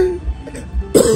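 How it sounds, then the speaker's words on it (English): A woman coughs and clears her throat, with two short harsh bursts near the start and a louder rasping cough at the end, close to the listener. "Please, don't cough too much."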